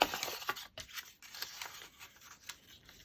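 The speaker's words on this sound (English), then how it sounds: "I'm just going to crumple this up a little bit behind the photo" Paper is crumpled by hand behind a photo on a handmade bird gift tag, giving continuous close, soft crinkling and rustling with a few sharper crackles, alone without talk.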